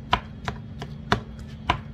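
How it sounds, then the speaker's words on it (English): Canned white chicken is chopped in a bowl for a chicken bacon salad, five sharp, separate knife strikes at an uneven pace, close and distinct, with no talking. "trying to minimize the pieces in here now, chopping it up."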